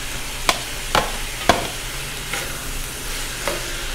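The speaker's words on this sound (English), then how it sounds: "Let's give this a quick stir." Vegetables for pancit canton being stir-fried in a pan, a few sharp scraping stirs spaced about half a second apart over a soft steady sizzle, fairly quiet and close.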